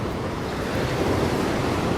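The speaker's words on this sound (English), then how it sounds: "videoing the sounds of the ocean like I am" Ocean waves wash steadily onto a shore in a continuous broadband roar, with wind buffeting the microphone throughout and no voices.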